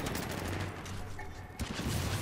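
Gunfire in the video game Gears of War 4, with a dense, continuous burst of rapid shots and rumbling impacts filling a short stretch at steady loudness, with only a faint hint of a voice beneath.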